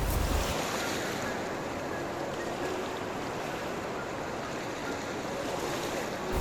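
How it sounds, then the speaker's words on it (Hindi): Steady water washes and laps along the bank of the Tons river in the evening, a constant broadband rush with some wind, heard alone and without speech. "पानी की लहरें उसके अंदर छुपती सी जा रही हैं"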